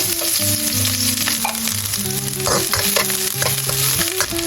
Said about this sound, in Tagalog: Ilagay na natin ang sibuyas sa mainit na mantika.